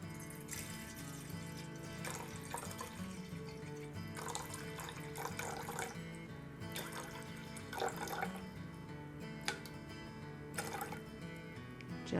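Distilled water being poured into a container for soap making, a faint continuous trickling and splashing with small drips throughout, heard up close in a quiet room.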